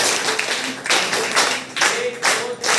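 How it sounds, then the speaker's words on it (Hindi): A group of trainees clapping together at a custom jewellery training closing ceremony, with several bursts of close applause rising and falling over a few seconds. "चलिए उसके लिए एक बार क्लैपिंग करते हैं हम लोग"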